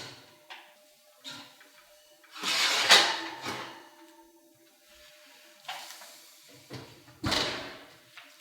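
An oven door opened to take out baked millet-stuffed tomatoes, with several clunks and thumps of the door and pans, spaced apart, close and moderately loud, with no voices.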